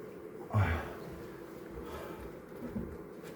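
Honey bees drone around exposed comb during a hive cut-out. Their soft, steady buzzing hangs low under one brief louder rustle.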